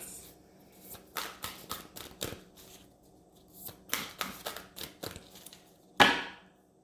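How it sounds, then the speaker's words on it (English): Large tarot cards being shuffled in quick riffling bursts, several clustered rustles and snaps with short pauses, ending in one sharper slap of the deck. "These are so big and so hard to shuffle."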